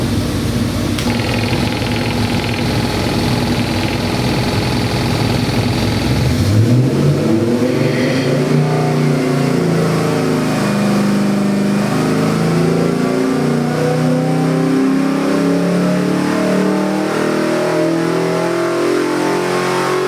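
Small-block Chevy 383 cubic-inch MPFI jet boat crate engine, black, fires up after a few seconds of other mechanical noise, then revs steadily and loudly with a deep, continuous roar that rises and falls with throttle, with no talking.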